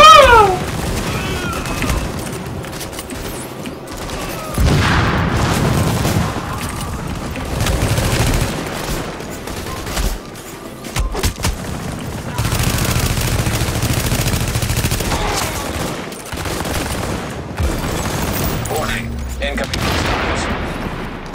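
Gunfire in the video game The Division, dense, loud bursts of automatic shots and booms packed into long stretches, broken by short gaps, with game voice announcements mixed in.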